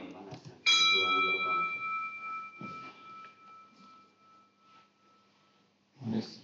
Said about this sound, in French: là c'est un son d'une petite cloche